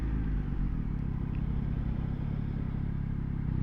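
A 2024 Yamaha XSR900 motorcycle engine drones loud and steady while riding, a dense low rumble building slightly toward the end with no talk over it.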